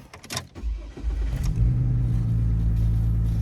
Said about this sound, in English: Maybe you guys should hear it start up because it gave it a tune-up.